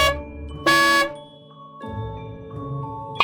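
A bus horn in a children's alphabet song gives a single loud, short honk between bright sustained musical tones.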